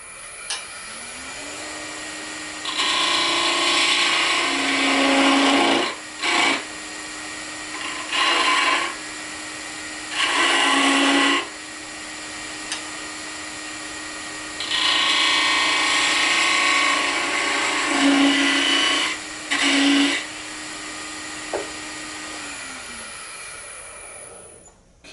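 A wooden dreidel stem spins on a wood lathe under a steady motor whine, with repeated bursts of loud scraping and hissing as a cutting tool meets the wood, separated by short pauses.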